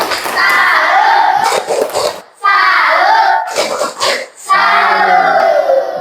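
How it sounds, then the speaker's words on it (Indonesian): Schoolchildren in an Islamic religious classroom clap a rhythmic group clap chant together, loud and close, in three bursts separated by brief pauses, with some shouting voices mixed in. "Tepuk tangan dulu untuk teman kita."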